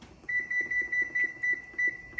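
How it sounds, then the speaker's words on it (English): A kitchen timer being set while pasta cooks gives a run of short, evenly spaced electronic beeps, about eight clear chirps at a steady rhythm, close and distinct over faint room noise. "So I set a timer."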